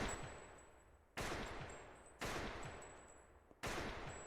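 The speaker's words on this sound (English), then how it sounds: "That's a lot of gunshots." Gunfire from an Attack on Titan anime episode: four sharp, loud volleys at roughly one-second intervals, each fading into a long ringing tail, with no voices.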